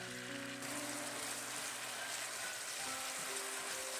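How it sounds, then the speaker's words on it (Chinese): Carrots and glass noodles stir-fried in oil in a wok, a soft, even sizzle with faint scraping as they are tossed, quiet and close with no talking. "把胡萝卜炒至转生之后，再把粉条加进来，同样把它们翻炒均匀"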